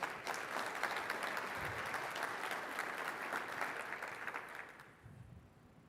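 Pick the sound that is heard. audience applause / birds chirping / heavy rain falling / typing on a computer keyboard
audience applause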